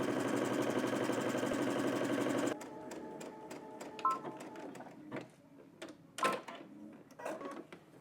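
Sewing machine stitching a side seam on a jersey knit garment, a steady dense whir for the first couple of seconds, then stopping and giving way to quieter handling clicks and rustles.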